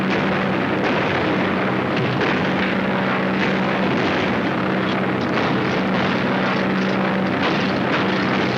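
A stolen airplane drones overhead, a steady loud propeller-engine roar that persists throughout with slight swells, no voices.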